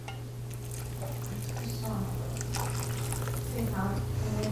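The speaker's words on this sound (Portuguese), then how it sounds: "A gente ainda vai acrescentar 600 ml de água fervente" Boiling water pours into a recipe in a kitchen, a faint, steady liquid splash under a constant low mechanical hum, with light clinks of utensils.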